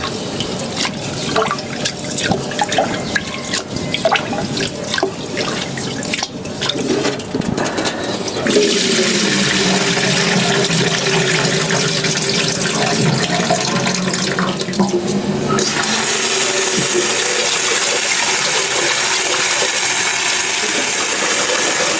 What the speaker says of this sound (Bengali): চালটা ধুয়ে নিয়ে রাইস কুকারে বসাই দিতে হবে